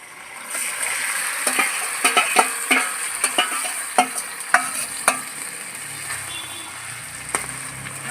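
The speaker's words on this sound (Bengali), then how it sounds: "পেঁয়াজটা লাল করে ভাজা হয়ে গেছে মেখে রাখা মাংস দিয়ে দিচ্ছি" Marinated mutton sizzles in a hot karahi with browned onions while being stirred, with a steady frying hiss and a series of sharp scraping knocks from a spoon.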